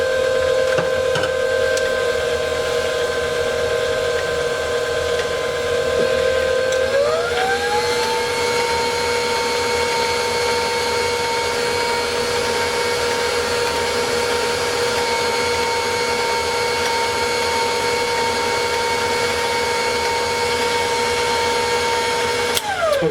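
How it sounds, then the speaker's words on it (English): A KitchenAid stand mixer runs steadily with a loud, close motor whine that steps up in speed partway through and holds, continuous with no talking, while mixing brownie batter. "I love this KitchenAid mixer."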